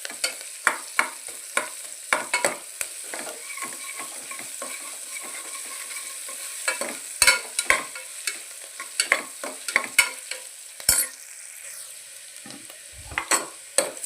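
Frying in oil for palak rice, stirred in the pan: a steady sizzle under frequent sharp scraping clicks of the spoon, close and fairly loud, with no one speaking.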